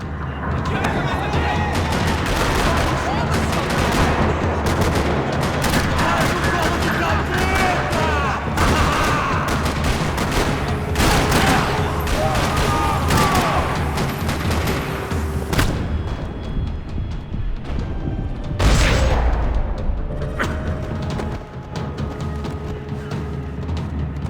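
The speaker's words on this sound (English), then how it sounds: "Another parking lot rattling with gunfire." Continuous bursts of gunfire and booming explosions in the video game Max Payne 3, set in a parking lot, dense and loud, with rapid volleys overlapping throughout.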